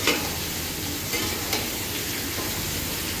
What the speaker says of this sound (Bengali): পটল ভাজা আগে থেকে হলুদ লবণ মাখিয়ে রেখেছিলাম, কিন্তু ভাজা করে ভেজে নেবো।